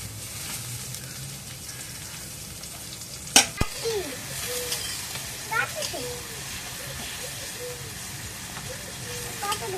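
Onions dropped into hot oil give a sharp crackling burst, then settle into a steady, close sizzle that continues with a few small pops, while a voice talks over it.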